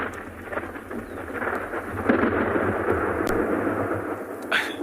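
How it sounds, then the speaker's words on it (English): Thunder from a nearby lightning strike during an evening safari rainstorm, a close, heavy rumble swelling and rolling for several seconds over steady rain. "That was a lightning bolt that hit literally just to the left of the frame"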